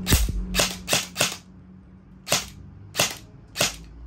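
An E&C 607 SOPMOD airsoft rifle fires seven loud, close, snappy shots, four in quick succession, then a short pause and three more spaced out, with a faint motor whine between them.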